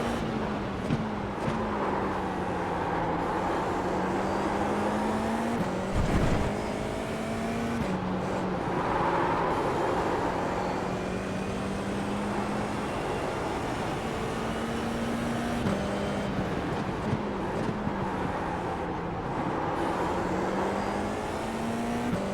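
An open-wheel race car in a racing video game laps the Tsukuba circuit, its engine note climbing and falling through repeated gear shifts. The whine is steady and moderately loud, with no talk over it.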